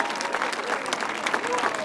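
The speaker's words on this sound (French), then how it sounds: "Applaudissements pour Jérôme" A crowd applauds steadily at the prize giving of the 2007 Marmande international grasstrack motorcycle race, under an announcer speaking over a loudspeaker.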